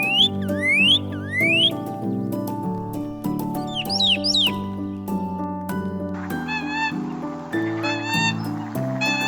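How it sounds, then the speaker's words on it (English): A cardinal sings repeated clear, slurred whistled sweeps, bright and fairly close, over a steady musical background. "Cardinal"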